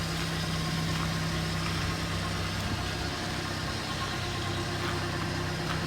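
A 2006 Mazda MX-5 NC roadster with nearly 176,000 km idles with its top down, a steady, even engine hum at moderate level with no other sounds over it.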